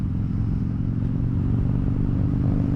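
A Kawasaki Ninja 400 motorcycle riding off, a steady, loud low engine drone holding constant throughout without speech.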